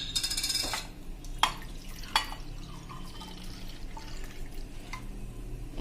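Homemade coconut neera pours from a bottle into a glass, a short splashing stream at first, followed by a few clinks and drips in a quiet room.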